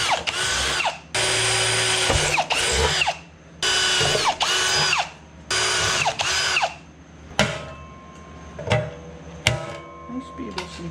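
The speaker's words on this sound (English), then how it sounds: "Now we're just going to drill 4 holes" A power drill whines in several loud bursts, stopping and starting between holes for riveting a dual exhaust onto a Can-Am X3, followed by quieter clicks and handling noises.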